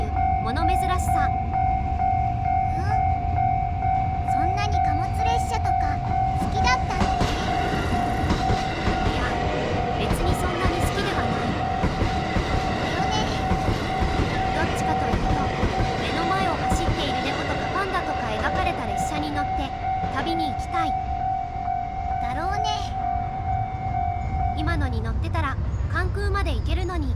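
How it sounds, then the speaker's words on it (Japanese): A heavy freight train with an extra banking locomotive attached rolls steadily through central Osaka near Umeda, giving a continuous loud rumble and rattling wheel clatter with a sustained tonal hum for most of its passing. "重量級貨物列車につく候補機。"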